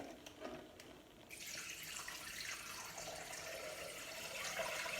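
Water poured from a container into a Thermomix mixing bowl, a steady splashing pour that starts after a second and continues close and moderately loud.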